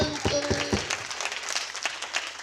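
A church congregation at a Christmas gathering claps in a scattered, rattling burst, a few sustained tones fading at the start as the applause rolls on, with a voice talking over it.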